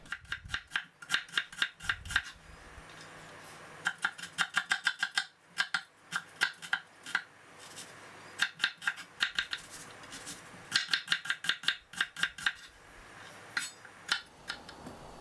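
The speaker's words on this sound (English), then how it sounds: "Wash, peel, and chop an onion." An onion is chopped with a knife on a board, giving bursts of quick, crisp, close-up cuts in rapid even runs with short pauses, no talking.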